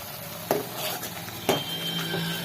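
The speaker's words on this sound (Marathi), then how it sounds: "चांगलं मिक्स करून घेऊया" A spoon scrapes and clinks against a pot while chili powder and spices are stirred into a simmering fish curry, two sharp knocks about a second apart over a steady soft sizzle, no voices.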